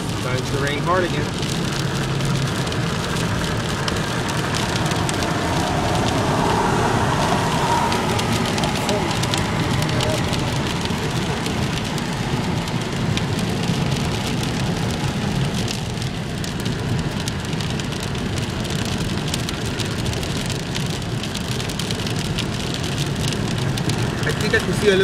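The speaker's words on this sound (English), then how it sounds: "Starting to rain hard again." Heavy rain pours during a thunderstorm in El Monte, California, a dense, continuous hiss of drops on surfaces lasting throughout, with a voice talking faintly over it at times.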